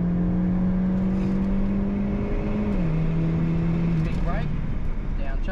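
A race car engine held at steady partial throttle on a track, a continuous droning hum with a slight pitch drop midway, steady and close throughout.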